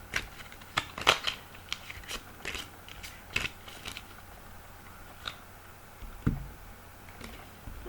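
Tarot cards shuffled and cut by hand on a table, with irregular sharp snaps and soft papery flutters close by and short pauses between bursts, and no talking.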